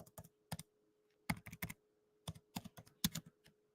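Quiet, close typing on a computer keyboard, brief clustered bursts of key clicks with short pauses between them over a faint steady hum.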